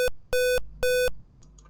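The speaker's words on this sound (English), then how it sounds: "the buzzer will sound for 3 times" An electronic safety box buzzer gives two loud, sustained beeps, each about a quarter second long, separated by a short gap, followed by faint quieter chirps.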